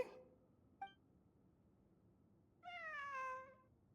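A cat in Genshin Impact gives one short faint mew, then after a quiet gap a longer, clearer drawn-out meow, with no talk.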